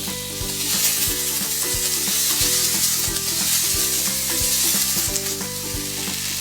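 Sweet peppers and scallions sizzle loudly in a hot pan, a steady bright frying hiss with rhythmic clacks of stirring running throughout.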